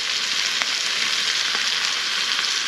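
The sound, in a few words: British quarter pounder burgers sizzling in a pan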